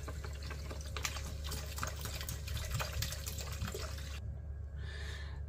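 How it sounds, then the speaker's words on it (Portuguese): Water is poured from small bottles into a cooking pot for meatballs, a close gurgling, glugging stream with splashes that stops shortly before the end, leaving a faint trickle. "agora vou colocar duas minis com água."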